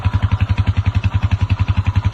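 A TMX 155 motorcycle with an IronTube fuel saver fitted idles close up, its single-cylinder engine thumping in a fast, even rhythm of loud pulses with a clattering mechanical layer over them.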